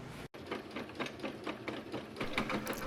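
Sewing machine running steadily while understitching the lining of a summer dress bodice, a close, continuous rapid needle clatter with slight speed surges.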